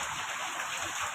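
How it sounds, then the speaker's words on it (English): Heavy rain in Bangalore pours down as a steady, broad hiss, fairly faint and continuous with no distinct drops or voices standing out. "Good rain, right? Fourth day in Bangalore raining."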